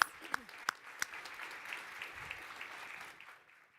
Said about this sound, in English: Please help me give them all a round of applause